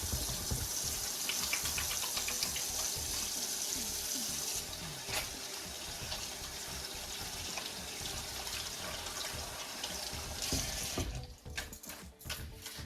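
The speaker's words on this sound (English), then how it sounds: "Let me wash my hands." A sink faucet runs steadily while hands are washed in a home kitchen, a broad continuous hiss with some splashing that cuts off near the end.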